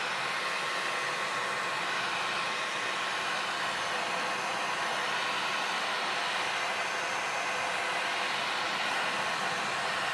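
An electric heat tool or hair dryer blows steadily on a stamped card to dry red ink, a loud continuous whooshing roar that holds even for the whole stretch with no talk.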